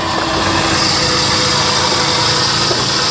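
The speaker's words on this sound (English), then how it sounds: "there's an accessory over here making a ton of noise" Loud, steady mechanical whine and whir from an engine accessory under the hood of a brand new Kia Optima, a continuous high-pitched running noise close to the engine bay with no talk.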